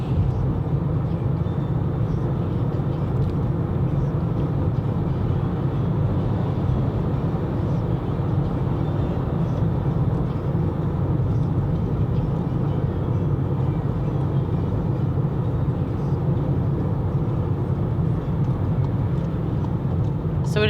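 Car driving, heard from inside the cabin: a steady low road and engine rumble with constant broadband noise, continuous and even for the whole stretch, with no clear talk.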